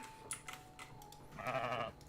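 Sheep bleat inside a video game, a short burst of bleating rising near the end over a steady electronic hum, with a few faint clicks earlier.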